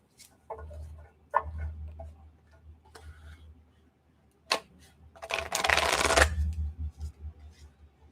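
Playing cards are shuffled close to the microphone: scattered riffling clicks, then a long, dense burst of fluttering cards, with faint taps afterward.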